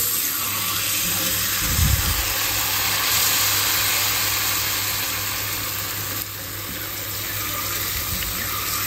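Water runs from a kitchen tap in a steady, close, continuous hiss, with a brief low thump near the start.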